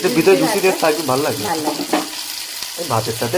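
Food fries in a pan until one side turns crisp, giving a continuous sizzle with stirring beneath a person talking close by.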